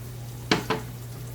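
A spoon scrapes and clinks against a cooking pot while whole milk is stirred in, two quick faint metallic taps over a steady low kitchen hum.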